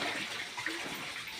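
Water poured over buffaloes to cool them in summer heat, a steady close splashing and gushing wash with no talk.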